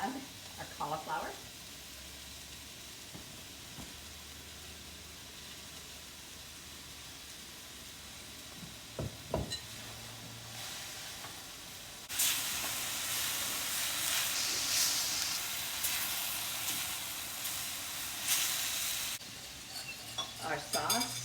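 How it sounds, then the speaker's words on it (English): Cauliflower goes into a stir-fry pan of fresh vegetables. A quiet stretch with a few utensil clatters and faint voice gives way to a louder, sustained hissing sizzle midway that lasts several seconds before easing off. "Now we're going to add our cauliflower."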